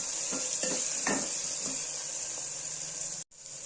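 Small tomato pieces fry in a pan for spicy rasam, giving a steady soft hiss and sizzle with a few light clinks of a stirring utensil, briefly cut off near the end, with no talking.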